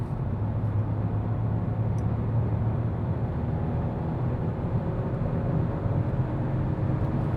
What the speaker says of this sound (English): So what does this small engine but with the turbo still deliver us when we start at 100 kilometers or 60 miles an hour and accelerate?